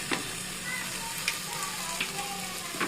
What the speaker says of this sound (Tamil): இஞ்சி பூண்டு பேஸ்ட்டு பச்சை வாடை போகணும், வச்சு வதக்கி விடுங்க.